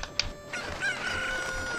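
Cucco chickens from Zelda: Ocarina of Time clucking and crowing in short, bright game-audio bursts over steady background music, with a brief sharp squawk near the start.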